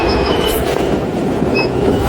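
A train rumbles steadily with a low, continuous roar and faint high-pitched wheel squeals, close by and loud.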